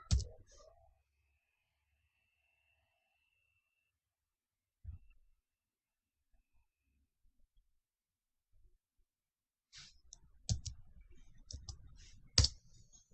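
A computer mouse clicking during a Linux software install, sounding as a few sharp, close clicks at the start and middle, then a quicker cluster of clicks near the end, with quiet gaps between.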